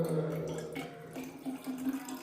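Hot water is poured and mixed into water with a soft, continuous splashing and trickling close by, fairly quiet throughout.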